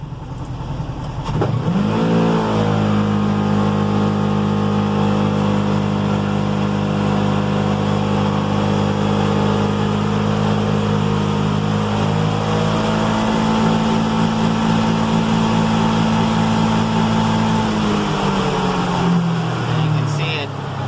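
A Polaris Ranger 1000 side-by-side engine on a full-throttle power run, topping out around 60 mph: the engine surges sharply after a quiet start, holds a loud steady high-rev drone, then drops away near the end.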